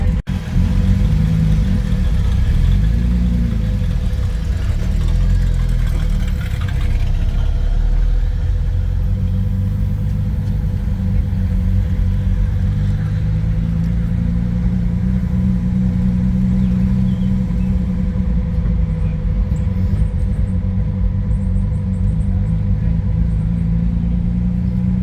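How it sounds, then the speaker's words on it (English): Deep, throaty V8 muscle car engines idle and rumble steadily nearby in the morning during the 2023 Power Tour, a low continuous growl with slight shifts in pitch as the motors run. "you'll just hear like muscle cars and V8s just firing up in the morning"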